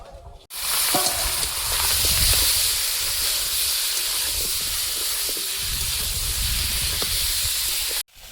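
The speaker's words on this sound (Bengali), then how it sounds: "মাছ ভাজা হয়ে গেছে, এবার মাথাগুলো ভেজে নেব।" Large fish heads frying in hot oil in a pan, a loud continuous hiss and sizzle that starts abruptly, holds steady for about seven seconds, then cuts off.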